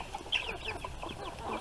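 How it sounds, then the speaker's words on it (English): Meat chickens cluck softly in a short, close burst of overlapping chirpy calls, with no talking. "These are meat chickens, by the way."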